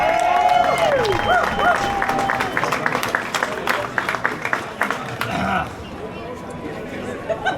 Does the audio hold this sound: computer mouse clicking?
no